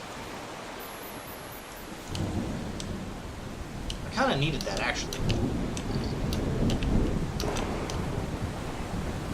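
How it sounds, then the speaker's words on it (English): Thunder rumbles through steady rain in a stormy scene from the video game The Solus Project, with rolling crashes building midway while someone talks briefly over the downpour. "Lightning storm."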